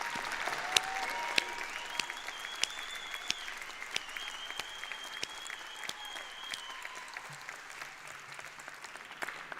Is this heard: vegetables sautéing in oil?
no